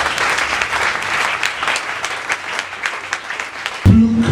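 Congregation applause during a Sunday anointing church service, a dense, steady wash of clapping that fills the space for about four seconds before cutting off abruptly.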